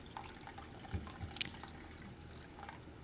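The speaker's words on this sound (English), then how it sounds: "we're adding the rest of the broth in there" Broth poured into a chicken and rice casserole dish makes a soft, close trickling and dripping with a few small splashes, quiet and continuous.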